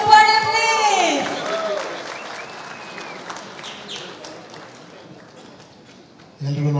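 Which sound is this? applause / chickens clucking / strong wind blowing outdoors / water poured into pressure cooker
applause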